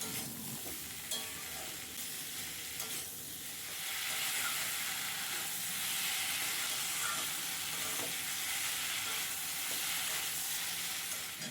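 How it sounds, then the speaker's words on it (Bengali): Sliced potatoes sautéing in a pan with turmeric, Kashmiri chilli powder and cumin paste give a steady close sizzle, with scraping stirs throughout and the frying growing slightly louder partway through; no voices. "এই সবগুলো উপকরণ দিয়ে দেওয়ার পর আমি আলুগুলো কিছুক্ষণ ধরে কষাবো"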